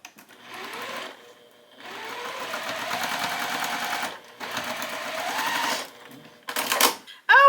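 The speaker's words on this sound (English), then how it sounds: "we're going to sew our little stem" A sewing machine stitches a small folded fabric stem for a quilt block in three short whirring bursts that rise in speed, separated by quiet pauses, close by and without talk.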